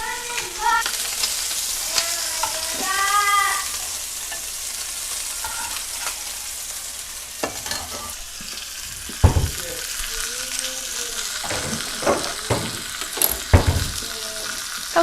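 Salmon fillets fry in olive oil in a pan, a steady loud sizzle with occasional stirring clatters and clinks throughout, no talking.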